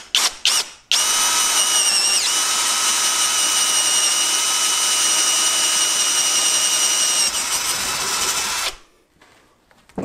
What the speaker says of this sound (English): I'm gonna go ahead and drill a few holes in it.